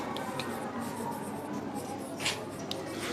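Faint scratching of writing on a board in a classroom, soft strokes under a low room hum, with a few slightly sharper marks near the end.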